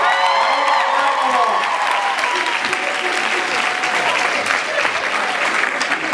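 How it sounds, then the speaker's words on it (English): A crowded Comic-Con panel room at San Diego breaks into loud, dense applause that starts strong and holds steady, with a few voices and a cheer mixed into the clapping. "give yourselves a round of applause for getting in here"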